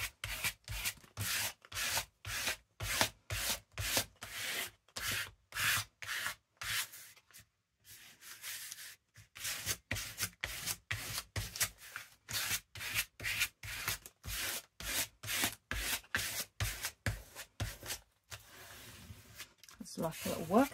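Scrap bits of paper are rubbed flat by hand on a journal project in a steady run of quick, rhythmic scrubbing strokes, pausing briefly midway and near the end, loud and close.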